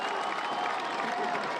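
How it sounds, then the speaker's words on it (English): Lacrosse fans in the stands at a boys' state final cheering and clapping, a brief burst of crowd noise and applause, fairly loud and steady, with a mix of voices. "players trying to get their fans on their feet to cheer"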